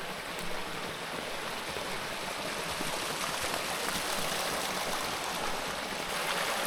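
A river rushes and gurgles steadily on a foggy, rainy mountain hike in the Picos de Europa, a loud, broad, continuous flow of water heard close by with no voices.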